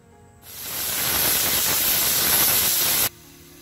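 A pressure cooker cooking chakvat greens lets off a loud, steady hiss of steam that rises quickly, holds for about two and a half seconds and then cuts off sharply.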